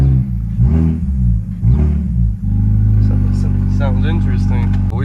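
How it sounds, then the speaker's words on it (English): A car engine with a faulty exhaust rumbles loudly and revs up, its deep throaty drone building and wavering, with a voice speaking over it early on. "the last time I'm gonna hear this car like this."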